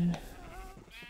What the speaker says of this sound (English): Get some of the sheep over here.